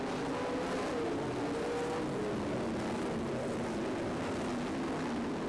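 IRA sprint cars race on a dirt track, a continuous, fairly loud engine drone with tones that rise and fall as the cars pass, and no talk.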